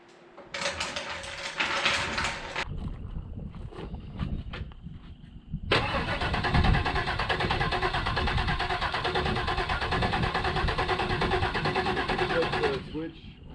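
An old truck that sat for years is started, with a short burst of cranking followed by the engine catching and running steadily for several seconds before cutting off, with people talking nearby.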